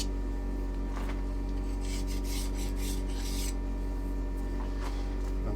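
A hand file rasping burrs off a shop-made metal setup block, steady scratchy strokes in short bursts over a constant low workshop hum, close by, with no talking.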